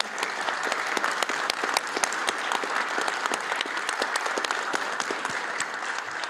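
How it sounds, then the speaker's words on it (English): An audience at a transit commission meeting gives a sustained round of applause for special guests, with crisp individual claps standing out against an even wash of clapping throughout. "Please join me in a round of applause for our special guests."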